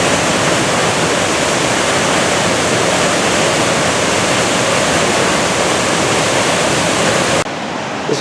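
A loud, constant roar of heavy falling water from Silver Falls on the Ohanapecosh River at Mount Rainier, dense and unbroken, cutting off abruptly near the end.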